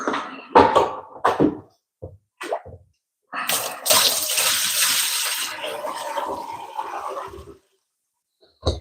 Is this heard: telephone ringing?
no